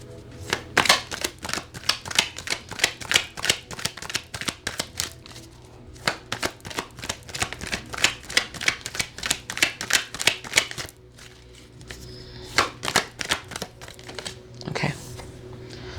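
Tarot cards being handled and shuffled: a long run of rapid, crisp card riffles and flicks close by, pausing briefly before a few more slaps and shuffles.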